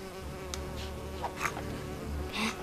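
Swarming bees buzz from a beehive that has been shot in the Lego Lord of the Rings video game: a steady, fairly loud insect drone with brief brighter swells, heard alone without talk.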